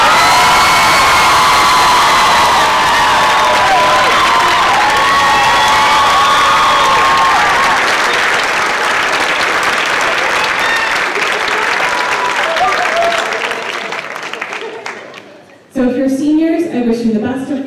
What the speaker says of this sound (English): So please acknowledge one more round of applause for Mr.